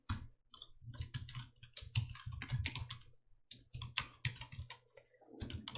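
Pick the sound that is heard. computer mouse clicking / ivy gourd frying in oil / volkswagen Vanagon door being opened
computer mouse clicking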